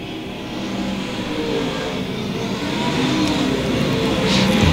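Several USRA modified and stock race cars running close together on the dirt oval at Lakeside, a loud continuous roar of engines that builds slightly toward the end.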